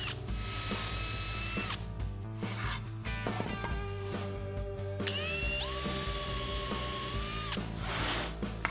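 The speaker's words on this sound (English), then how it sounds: "this is where I'll need to pre-drill and countersink holes for the screws" A power drill pre-drills and countersinks screw holes in a sapele wood cabinet. The motor whines at a steady pitch, then surges and glides higher in a second burst, with faint mechanical rattles between.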